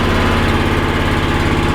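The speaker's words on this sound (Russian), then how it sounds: "трактор завелся, схватился и потихоньку" An MTZ 132N mini tractor engine runs steadily just after starting, a loud, close, continuous mechanical drone with a throbbing low pulse and no voices.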